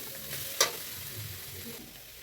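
Chopped green chillies sautéing in a pan for chow mein, a steady low sizzle with a brief sharp scrape or clatter of stirring near the start, close and moderately quiet.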